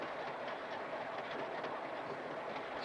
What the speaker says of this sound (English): here I am on a train, can you imagine?